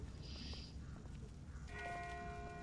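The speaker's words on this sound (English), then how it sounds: "That's not the same bell as before. This one's further off." A bell tolls in the distance within The Walking Dead video game, a faint ring with a sustained metallic tone later over low ambient rumble.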